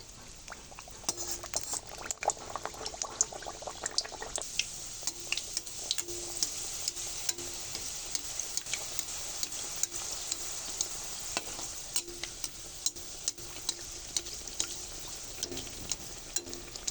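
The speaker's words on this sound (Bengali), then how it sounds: "এবার আমি লুচিগুলো ভেজে নেব" Luchi puffed flatbread fries in hot oil in a kadai, giving a steady bubbling sizzle with scattered crackles and pops throughout, close and fairly soft, with no talking.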